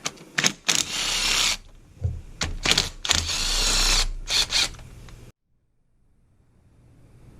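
A ratchet removing valve cover bolts on a Ford Fusion engine, close bursts of rapid clicking ratcheting between short pauses, then the sound stops and near silence follows.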